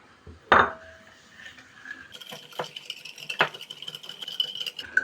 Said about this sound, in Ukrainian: Добре розмішуємо, додаємо муку, борошно поступово